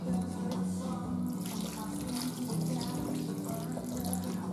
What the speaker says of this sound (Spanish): Y ahora vamos a poner también un poco de agua.